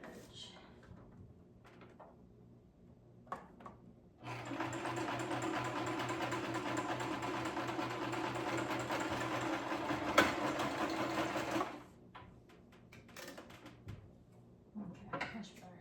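A home sewing machine stitches down a fabric edge in one steady whirring run of about seven seconds, close and fairly loud, with quieter handling noises before and after.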